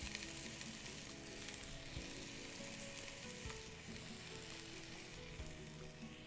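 Onions sprinkled with salt fry in a pot, giving a dense, steady sizzle that stays close and even for several seconds with faint stirring underneath.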